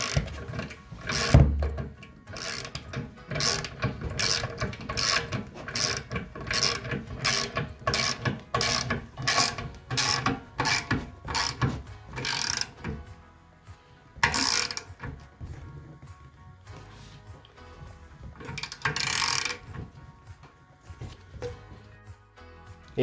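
A ratchet tightening a bolt on an Adidas home gym, with rapid rhythmic clicking strokes close by, several louder knocks, and the pace slowing and loosening toward the end.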